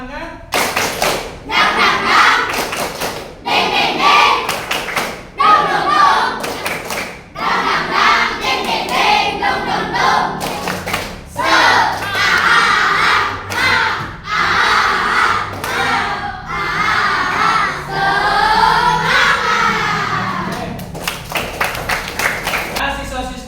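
A classroom of sixth-grade primary schoolchildren loudly performing the tepuk semangat clapping chant, rhythmic bursts of claps and thumps mixed with shouted chanting voices, close and energetic throughout with brief pauses between phrases.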